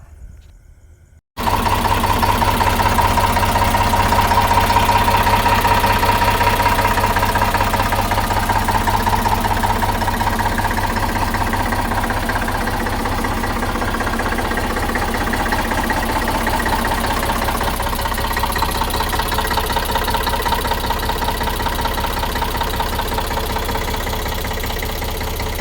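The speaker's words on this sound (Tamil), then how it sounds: "வண்டி ஸ்டார்ட் பண்ணுறேன் பாருங்கள்." An Eicher 485 tractor of the 2023 model year cranks and catches abruptly, then settles into a loud, steady diesel idle with a rhythmic knocking chug that carries on unchanged.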